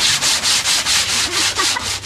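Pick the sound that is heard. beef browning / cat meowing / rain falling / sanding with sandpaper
sanding with sandpaper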